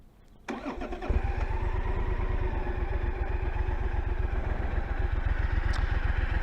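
A Triumph Thunderbird 1700cc motorcycle engine starts with a brief crank, then settles into a steady, deep, loping idle, loud and close on its standard pipes, with no voices.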